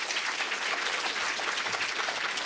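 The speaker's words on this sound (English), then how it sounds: "If you could give them a really warm round of applause" Steady applause from an audience honoring speakers at a dementia-focused event, a dense continuous wash of clapping with no voices over it.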